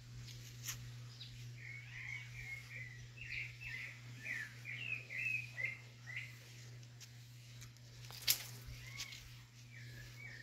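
Small birds, including doves, thrushes and great kiskadees, chirp and twitter faintly in a cluster of quick calls, set against a steady electrical hum and quiet surroundings.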